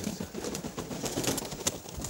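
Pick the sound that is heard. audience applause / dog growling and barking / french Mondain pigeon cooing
french Mondain pigeon cooing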